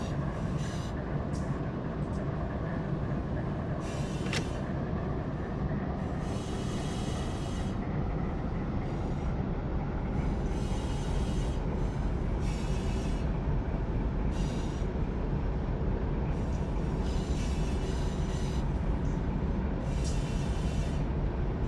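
A Metrolink commuter train rolls past in the Run 8 Train Simulator, a steady loud rumble of wheels on rail with repeated bursts of clattering and hissing over the constant drone.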